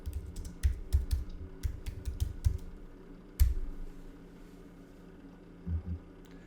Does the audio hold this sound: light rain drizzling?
no